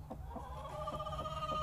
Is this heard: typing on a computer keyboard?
no